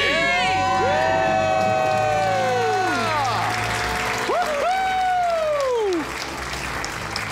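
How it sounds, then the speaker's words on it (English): A couple shouts a loud debt-free scream in a studio, their voices sweeping up and down, answered by a crowd cheering, whooping and applauding, with the noise fading abruptly near the end. "Let's hear a debt-free scream."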